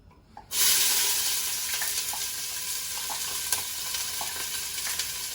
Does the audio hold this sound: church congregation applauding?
no